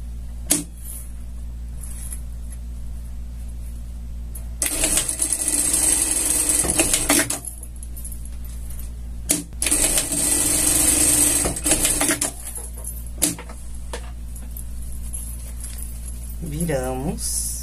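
A sewing machine runs in two bursts of stitching, each a few seconds long, sewing a seam on a scout costume over a steady low background hum, with quiet pauses in between.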